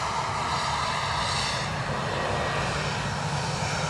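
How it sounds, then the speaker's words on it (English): A Lufthansa Airbus A320 inbound from Frankfurt to Edinburgh Airport makes a loud, continuous engine roar that stays steady and close for the whole stretch, with no voices. "we have an inbound Lufthansa A320, I think it's an A320,"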